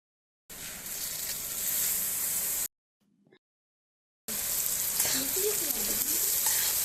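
Coriander seeds roast with asafoetida in a pan for sambar powder, giving a dense, close sizzle in two stretches broken by a silent cut, with a faint voice over the later part.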